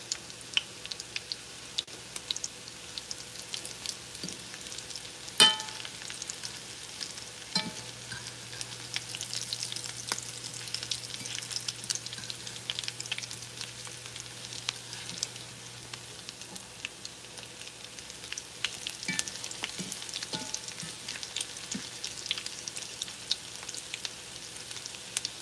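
Salmon patties frying in a skillet, a quiet steady crackle and sizzle throughout with scattered pops and a few sharper ticks, heard alone without talking.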